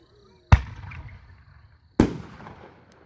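Two sharp firework bursts from preloaded 62 mm shells, a blue peony with white strobe pistil type, each a loud crack followed by a crackling, decaying tail, spaced about one and a half seconds apart.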